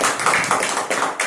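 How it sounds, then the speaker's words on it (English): An audience claps for a guest during a talk on beauty, a dense burst of overlapping handclaps close by, lasting just over a second with no voices. "So guys, we should clap for Bikram sir."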